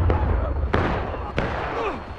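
Musket volleys in the multiplayer Civil War game War of Rights, with three sharp reports cracking over a dense, continuous battlefield din of distant firing and shouting voices.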